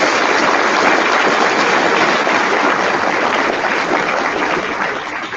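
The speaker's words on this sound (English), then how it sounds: "Let's give them a round of applause." Banquet audience applauding girls' cross country nominees at a high school sports awards event, a broad, steady roar of clapping that stays loud throughout and eases slightly at the end.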